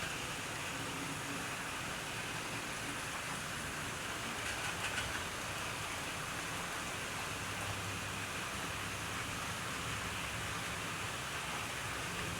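A steady, faint rolling rumble and rush from a running Maunsell locomotive train, continuous and even throughout, heard from a distance with no talk.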